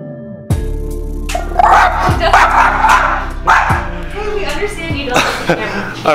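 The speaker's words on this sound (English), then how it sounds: "This dog hates me." A dog barks in short, repeated bursts, close and loud, over a steady background of other sound.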